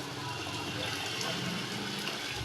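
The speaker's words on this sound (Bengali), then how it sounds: "এবার একটু জল দিয়ে দেব।" Water pouring steadily into a pot of sour amra dal, a continuous wet gushing close by, filling the space without pause.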